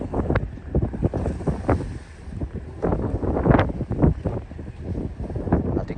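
Cold, wet wind gusts along the Ramsgate seafront and buffets the microphone in uneven bursts, with a faint rush of sea beneath.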